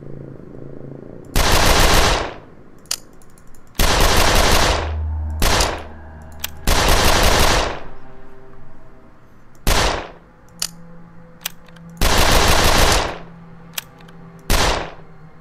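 Rapid automatic gunfire in the video game 13 More Days In Hell comes in loud, dense bursts of a second or two, separated by short pauses and a few single shots.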